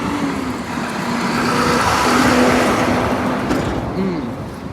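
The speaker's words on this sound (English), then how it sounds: "More industrial traffic." Heavy industrial road traffic rolls past nearby, a loud steady engine and tyre roar that swells and fades, with no one talking over it.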